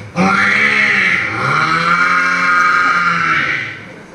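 A mimicry artist on stage at a university show voices the cry of a little calf, one long, loud, wavering bleat-like call sustained for about four seconds.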